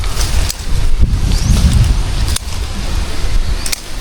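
Strong gusts of wind blast across the microphone on a durian farm, roaring loud and low with rustling and a few sharp buffeting pops, and no voices.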